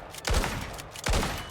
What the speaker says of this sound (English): So shotgun with slugs is really good in the trench shotgun.